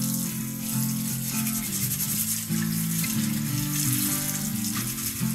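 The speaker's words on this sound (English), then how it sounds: "we're going to take one of these little Brillo pads and some cold water" A Brillo pad scrubs a cast iron pan under cold running tap water, with a steady stream hissing and splashing close by and rhythmic rubbing strokes layered over it throughout.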